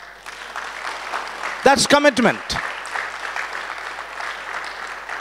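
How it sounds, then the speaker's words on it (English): A church congregation gives a clap offering, steady broadband applause running under a preacher's voice, with a louder burst of shouting and cheering midway before settling back to ongoing clapping. "Give the Lord a big clap offering"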